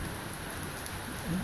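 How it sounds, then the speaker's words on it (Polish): Dense, steady downpour of heavy rain during a summer thunderstorm, hissing evenly throughout, with no distinct thunderclap standing out. "W czasie burzy, w czasie ulewnego deszczu."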